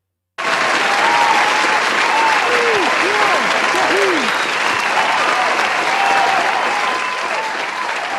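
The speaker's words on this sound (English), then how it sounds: "Can we make some applause, please, for Marcel?" Sustained crowd applause for Marcel, a dense steady wash of clapping that starts abruptly and holds at full strength throughout, easing slightly near the end, with faint cheering voices mixed in.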